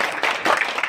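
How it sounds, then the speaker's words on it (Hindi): Crowd applause welcoming Mahant Balak Nath at Somnath Dham in Agra, a short uneven burst of clapping at moderate distance. "करतल ध्वनि से, तालियों से इनका हार्दिक स्वागत और अभिनंदन।"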